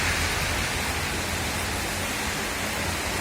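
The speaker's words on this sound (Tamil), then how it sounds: "மாலையில் நல்லா குழு குழு குழுன்னு நல்ல ஒரு மழை" Heavy rain pours in Gudalur in the Nilgiris as a steady, dense hiss that fills the whole scene, with no voices and no pauses.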